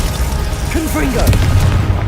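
Confringo blasting spells in Hogwarts Legacy go off as a muffled boom over a rumbling bed of combat noise, with short swooping effects in the middle.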